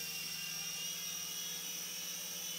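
Sky Rover Vigilante RC toy helicopter hovering, its small motor and rotor giving a steady high-pitched whine with a constant buzzing drone throughout, fairly close and unbroken by speech.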